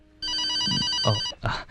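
A telephone bell rings once in a sustained electronic trill, followed by brief rustling or handling sounds.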